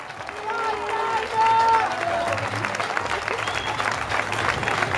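A crowd at a dance show applauds, a dense patter of clapping and cheers running throughout, with voices calling out over it.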